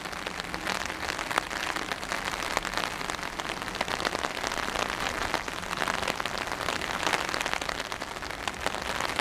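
Rain falls steadily on a garden, a dense close patter of drops hitting leaves and surfaces with a continuous hiss and no pauses.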